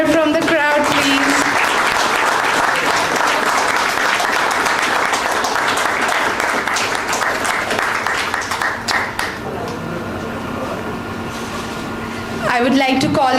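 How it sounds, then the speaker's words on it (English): A crowd at a bank retirement ceremony claps and cheers loudly for several seconds, then the applause thins to a quieter murmur before a brief swell returns near the end. "Can we have a cheer from the crowd,"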